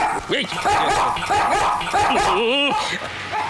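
A dog barks and yips in quick repeated bursts at close range, with rising, wavering cries near the end and some background noise from a comedy film scene.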